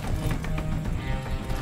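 Horse hooves clip-clop at a steady running pace in Far Cry 6, dense and continuous under game ambience and rustling, with no speech over them.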